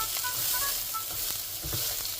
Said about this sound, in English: We're going to go ahead and add our onions. Give it a nice stir.